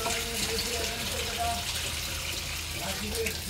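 Water poured into a pot, a continuous close trickling splash with faint talk in the background throughout.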